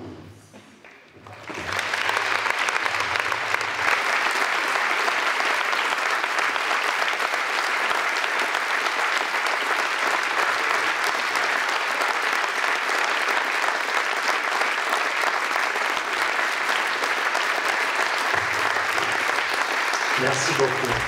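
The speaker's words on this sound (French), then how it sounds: "je vais vous demander de vous lever afin de participer à une minute d'applaudissements" A volleyball arena crowd stands for a sustained minute of applause in tribute, dense steady clapping rising after a brief spoken moment and holding evenly to the end.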